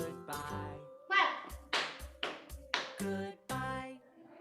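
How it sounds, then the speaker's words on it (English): Children at a school science club clap in a steady beat, about four sharp claps spaced half a second apart, mixed with young voices singing a goodbye song. "Clap."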